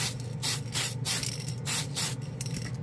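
Mr. Color spray can paint is sprayed over a black surface in a rhythmic series of close, loud hissing bursts, about seven short sprays with brief gaps between them.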